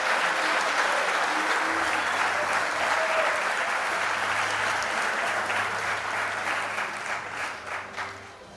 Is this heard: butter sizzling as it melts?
no